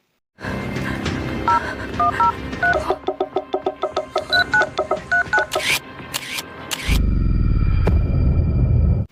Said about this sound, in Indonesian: dia mencoba menghubungi Lisung untuk meminta pertolongan